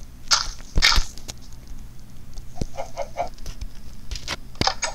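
A chicken clucks in the Minecraft video game, with short clucks and sharp clicking and thudding game noises scattered irregularly over a low steady background, with no talking.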